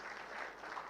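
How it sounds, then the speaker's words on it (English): Audience applause for the distinguished panelists after a discussion on investing in Jakarta's urban redevelopment, a steady, dense clapping sustained through the whole short moment at moderate distance. "Give applause for our distinguished panelists."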